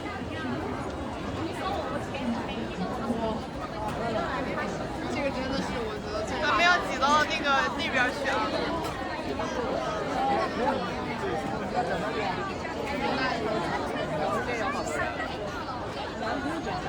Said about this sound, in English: the moment my friend and I walked over, the sheer size of the crowd blew me away